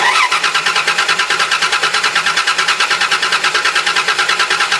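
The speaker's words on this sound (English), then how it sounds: "Next, we're gonna crank the engine and then we should have spark here." A car engine cranks on the starter during an ignition coil spark test, giving a loud, steady, rapid rhythmic churning that continues evenly without catching.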